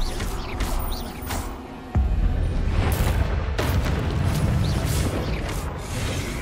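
Confringo explosive spell bursting in Hogwarts Legacy, a sharp boom with a heavy low thud and rumbling tail, surrounded by scattered game effects and clatter.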